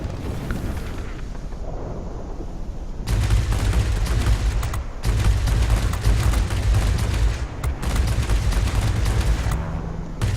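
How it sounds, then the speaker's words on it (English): Me 410 aircraft guns firing in a combat flight video game, several long loud bursts of rapid fire separated by short pauses, heavy and close over a steady engine drone. "Being very cautious with the use of the guns here, because we don't have solid shots on them yet."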